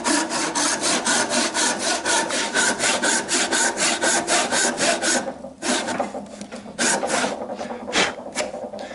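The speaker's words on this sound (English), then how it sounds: "sawing it out because it takes a while, especially when it's a big piece of wood like this one" A hand saw rasps steadily through a large piece of waxy timber, cutting a bridle joint, in quick, even back-and-forth strokes, close up, then slows into a few irregular strokes near the end.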